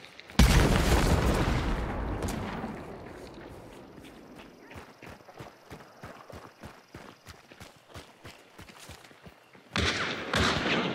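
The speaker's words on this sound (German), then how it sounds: "wieder vors Gitter geschossen" In Hunt: Showdown, a loud shotgun blast bursts out and rings down. Rapid footsteps then thud along before a second heavy shot strikes near a metal grate.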